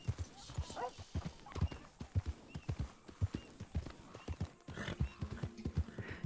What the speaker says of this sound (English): Alright, where's my horse? My horse!